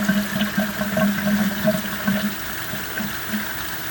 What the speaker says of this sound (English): If I take this off, you can really hear the gurgling.